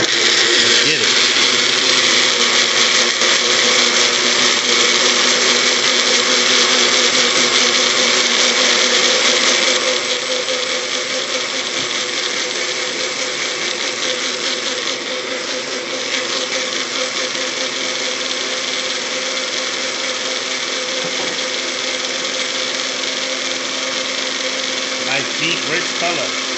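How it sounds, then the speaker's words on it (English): A blender whirs at high speed, blending a beetroot smoothie, in a loud, continuous drone that eases slightly partway through and keeps running steadily for the full length. "Put it in our old magic blender."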